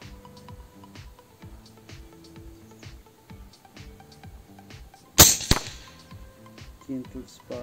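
One abrupt, loud crack of a URKOIII Fiora X M22 air rifle shot at an 80 m long-range target bursts out partway through, followed by a brief clatter, with a regular ticking pattern running underneath.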